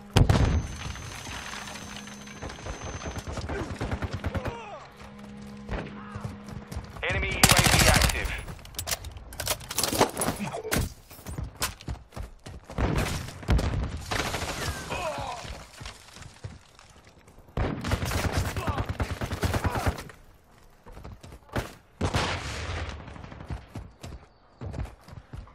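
Gunshots and bursts of automatic fire from a military shooter video game, arriving in loud clustered volleys with short lulls, mixed with game sound effects and occasional voices.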